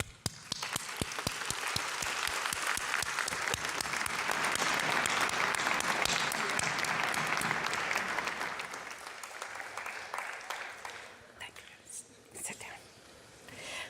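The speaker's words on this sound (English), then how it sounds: "I'm going to ask you to turn and face your families and friends and clap your appreciation" Graduates at a Memorial University convocation ceremony burst into sustained applause for their families and friends, a dense hall-filling roar of clapping that swells, holds, then thins into scattered claps and murmurs.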